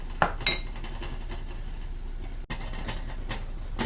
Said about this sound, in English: we're gonna add these back to the pot and then give it a stir along with the dill